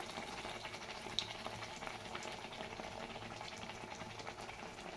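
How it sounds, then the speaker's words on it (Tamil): A ladle of vada batter hits hot frying oil, setting off a faint, steady bubbling sizzle that carries on evenly throughout, soft and close with no voices. "எண்ணெய் காய வச்சாச்சு இதை வந்து ஒரு கரண்டி எடுத்து ஊற்றணும்"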